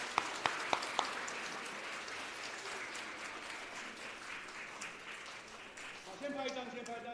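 Church congregation applauding at a Sunday worship service, a steady wash of many hands clapping with a few sharp near claps at the start, moderately loud and continuous, with voices rising near the end.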